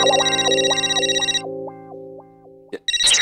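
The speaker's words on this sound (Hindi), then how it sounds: "ये टप्पू का फोन।" A phone ringtone sounds in a sitcom scene in a family comedy show, a bright electronic melody with sharp repeating notes that plays loudly for over a second, then thins to softer fragments before cutting off.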